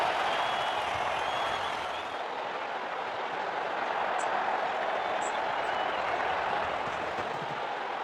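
Crowd cheering and applauding after a six in the cricket video game WCC3, a dense continuous roar of clapping and cheers throughout, loud and steady.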